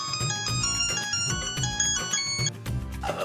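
A phone ringtone plays loudly and continuously, a bright repeating electronic melody with a steady beat, alone with no talk.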